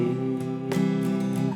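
Sustained acoustic guitar chords strummed in a steady pattern, with bright accented strokes recurring over a full, continuous harmonic ring.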